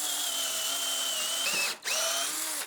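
A power drill drives bolts fixing a platform to its wooden legs, a loud steady whirring that briefly cuts out and spins up again close by.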